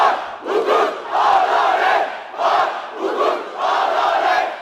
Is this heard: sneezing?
no